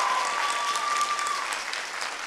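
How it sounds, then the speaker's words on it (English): Audience applause at a performance event, a dense wash of clapping from a crowd held steady for a couple of seconds, fading slightly toward the end, with a brief faint tone running beneath. "While you're still clapping, let's give a round of applause for some of our voices."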